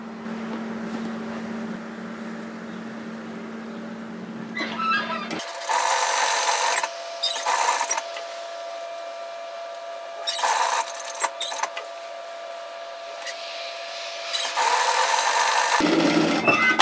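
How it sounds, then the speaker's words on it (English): A plain home sewing machine fitted with a ball needle stitches knit fabric for sweater cuffs, running in loud bursts of rapid mechanical whirring separated by short pauses, with quieter hum between runs and no talking. "make sure when you are sewing with your plain sewing machine that you have a ball needle in here"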